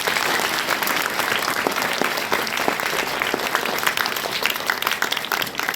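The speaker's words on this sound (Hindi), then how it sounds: "एक बार अपने लिए जोरदार तालियां।" Loud, sustained applause from a large crowd at a girls' school event in Jhunjhunu, India, dense clapping filling the whole stretch without a break.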